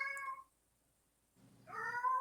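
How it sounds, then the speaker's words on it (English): A cat meows twice at close range, a short tonal cry followed after a pause by a longer, louder, whining meow, with a faint low hum between them. "That's my cat."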